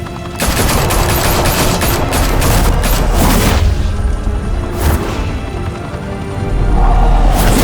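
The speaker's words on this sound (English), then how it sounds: "Now we only have to take one of you down. Open fire!" A sustained, loud fusillade of automatic gunfire from the Batman: The Telltale Series video game, rapid overlapping shots and booming impacts filling the scene almost continuously, with brief lulls and a renewed burst near the end.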